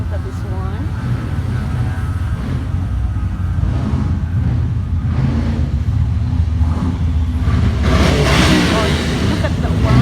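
A car rolling in at an outdoor car show, a low steady engine rumble building slightly toward the end amid crowd chatter and voices talking nearby throughout.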